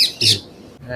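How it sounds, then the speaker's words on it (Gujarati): Two harsh, shrill calls from parrots perched in trees in a village near Botad, Gujarat, ring out close together, loud against a quiet outdoor background. "એટલાય પોપટ બેઠા છે"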